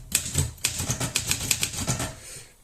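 Keys clack on an Olympia Monica manual typewriter, about a dozen close, crisp strikes in a quick, slightly uneven rhythm, loud and alone.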